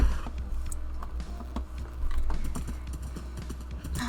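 A horse trots across the ground in the video game Minecraft, its hooves clip-clopping in a brisk, steady run of light clicks over a low background hum.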